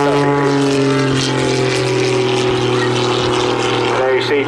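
Pitts Special muscle biplane at the Southport airshow 2022, its propeller engine droning loud and strong with a shifting pitch as it performs, under an announcer's commentary.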